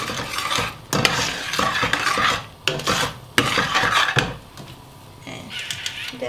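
Salt being stirred into boiling water in a pot at a home stove, a spoon scraping and swirling in uneven strokes with brief pauses, close and fairly loud over a soft bubbling bed.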